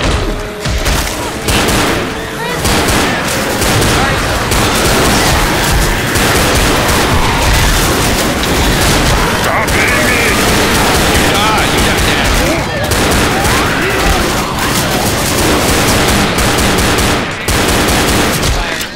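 Dense, loud gunfire in Left 4 Dead: sustained bursts of automatic shots and booming blasts roll on continuously for the whole stretch, with voices faintly mixed into the din.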